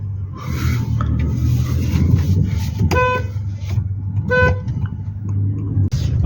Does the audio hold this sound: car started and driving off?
yes